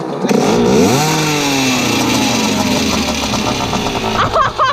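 A Yamaha YZ 125 two-stroke motorcycle engine runs loud and close, revving up and down with a buzzy, raspy tone that holds steady before a few sharp blips at the end.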